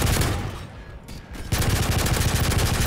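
Submachine gun fire in Call of Duty: Modern Warfare III, in a survival mode. Dense, loud bursts of rapid shots sound at the start, ease off briefly, then return as sustained automatic fire to the end.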